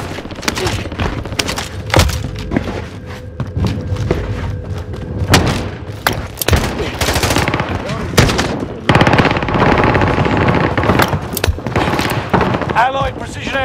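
Rapid bursts of automatic gunfire and heavy thuds fill a video game battle, loud and close, with sharp individual shots scattered between longer volleys and game voices calling out beneath the shooting.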